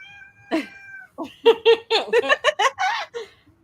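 A house cat lets out a string of loud, drawn-out, agitated meows, about eight cries in quick succession, close and alone with no talk.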